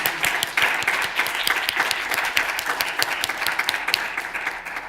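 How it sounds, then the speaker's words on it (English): An audience claps steadily for a presenter at a live academic talk, a dense, even wash of applause that holds for several seconds with no voices over it. "let's all give her a round of applause again"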